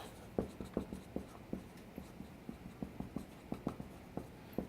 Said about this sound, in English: So the third thing I'm going to write up here is